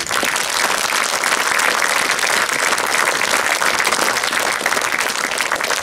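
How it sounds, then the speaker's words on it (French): A conference audience gives a round of applause, a thick, even wash of many hands clapping that stays constant and fairly loud throughout. "vous pouvez encore une fois l'applaudir"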